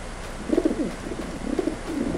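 Crows call in the video game Fragile Dreams, two short bursts of harsh bird calls over a steady low background hum, fairly close and moderately loud.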